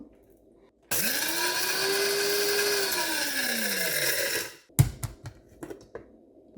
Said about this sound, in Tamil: இப்போ நான் இதை போட்டு இப்போ இதில் அரைக்க போகிறேன்